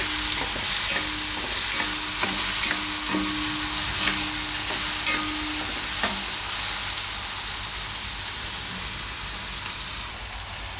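Ridge gourd simmering in a pan with turmeric and salt gives a steady, close sizzle, with periodic scraping stirs in the first six seconds before the frying settles into an even hiss.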